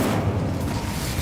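Bombarda explosion spell going off in the Hogwarts Legacy video game, a dense, sustained low boom with rumbling blast texture filling the whole short moment at steady loudness, no talk.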